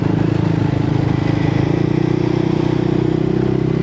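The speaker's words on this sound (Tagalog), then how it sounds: "Kalmado makina natin ngayon." A Yamaha Nmax scooter fitted with a VMAX Racing Onyx aftermarket muffler idles and runs steadily close by, giving a continuous low droning exhaust note with a faint rattle and no voices.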